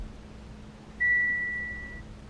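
One steady electronic warning beep from a Mitsubishi Outlander diesel sounds for about a second, fading slightly, over a low constant hum with no talking.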